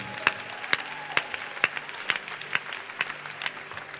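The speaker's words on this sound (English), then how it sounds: "Clap for the word of God, not me." A church congregation during a sermon claps in unison, a regular series of about ten sharp, loud claps evenly spaced roughly every half second over a faint background murmur.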